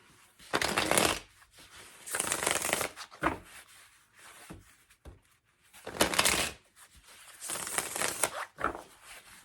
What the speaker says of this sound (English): Let's get 2 more shuffles for Leo.